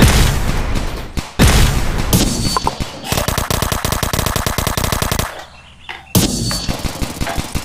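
Machine gun fire in a video game crackles in loud, rapid bursts, with dense rattling volleys broken by short pauses and a brief lull before the shooting resumes.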